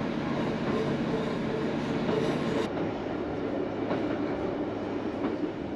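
A train rolls along the Looe Valley branch line in Cornwall, running on a causeway over a river bed with water on both sides, giving a steady close rumble and wheel clatter with no talk.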